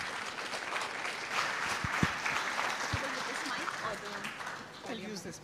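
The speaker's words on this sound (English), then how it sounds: "Can we have a huge round of applause for him?" Audience applause at an agricultural innovation event, a dense, steady wash of clapping that lasts throughout, with a few voices and brief shouts mixed in.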